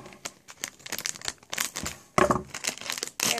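Plastic packaging crinkles and snips in short bursts as it is cut open with scissors, with irregular rustling and crackling close up.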